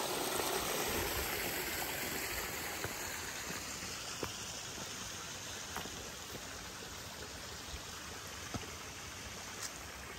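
Water flows steadily from a dam spillway on a farm, a continuous broadband rushing wash with faint scattered splashes, even and unbroken throughout.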